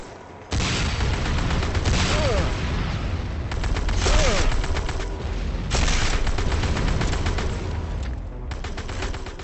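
Continuous weapon fire in the video game Renegade, dense repeated shots in long rolling bursts with brief gaps, loud and sustained, with a voice talking faintly underneath.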